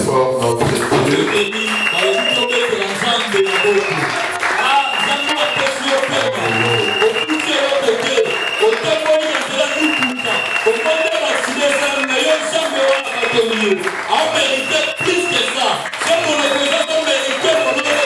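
A church congregation applauds and cheers for God in long, sustained clapping that fills the room, mixed with voices and musical tones throughout.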